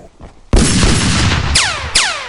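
Loud gunshots crack out in a sudden burst, followed by two more distinct shots with ringing ricochet whines, close and sharp.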